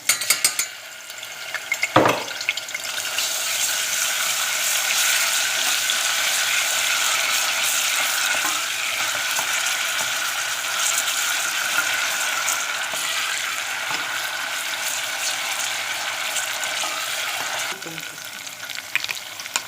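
Tomato paste sizzles and fries in a pan while being stirred, giving a steady, close hiss with a sharp scrape from the utensil early on, continuing alone without talk.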